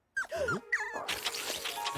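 A cartoon puppy gives a few high, wavering whimpers and yips close up, followed by a soft, rustling bustle.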